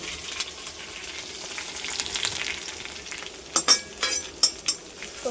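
Grated garlic and ginger paste sizzles in a hot pan with a soft, steady hiss, then several sharp clinks and scrapes of a utensil stirring it, close by and without speech.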